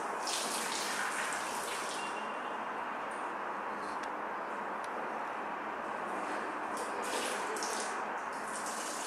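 Steady broadband rush of very hot running water, constant and close, like a tap pouring continuously with no voices.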